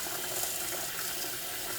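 Tap water runs steadily into a bowl while rice is rinsed, a soft, continuous hiss and splash at low volume.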